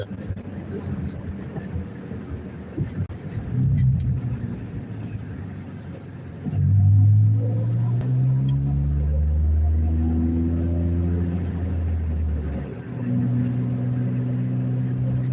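A loud four-cylinder car engine revs and drones close by, its low rumble rising sharply and holding steady with shifting harmonic tones.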